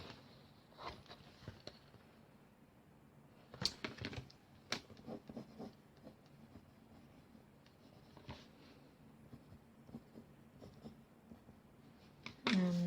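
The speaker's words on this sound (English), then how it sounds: "you can always go back over with your pencil" Pencil marks on paper come as quiet, irregular scratches and taps in short bursts with pauses between them, close and faint, with no voices.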